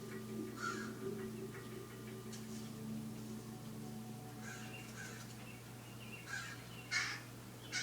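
Crows give warning calls, several short caws in scattered bursts, some overlapping, heard at a moderate distance over a steady low electrical hum.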